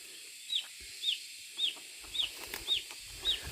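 Chickens clucking in a rhythmic series of six short, sharp calls spaced about half a second apart, moderately close, with faint low background noise between them.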